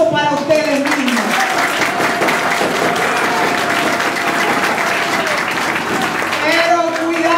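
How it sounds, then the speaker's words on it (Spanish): A crowd at a political campaign rally for a vice-presidential candidate applauds themselves, sustained loud clapping and cheering for several seconds, with the candidate's voice heard before and after. "Un aplauso para ustedes mismos."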